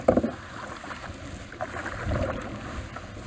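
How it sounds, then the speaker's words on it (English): A canoe is paddled across the water at a state park campground, giving soft splashes and dips with a sharper stroke near the start, set against light wind and water noise close to the microphone. "Just keep paddling"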